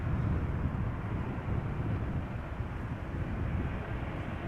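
A Ryanair Boeing 737 arriving from Dublin at Amsterdam Schiphol produces a steady, distant jet rumble, broad and even with a wind-buffeted low roar throughout, no voices.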